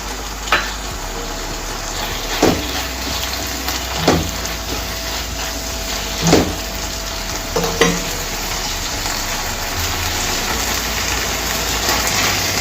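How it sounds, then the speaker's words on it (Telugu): Cooked bottle gourd and boiled field beans stirred together in a pan, a steady soft sizzle with a few distinct spoon scrapes and knocks against the metal, close and moderately loud with no talking. "ఇప్పుడు ఇందులో మనం ఆల్రెడీ ఉడకపెట్టి ఉంచుకున్న అనపకాయ గింజలు వేసి కలిపేసుకోవాలి"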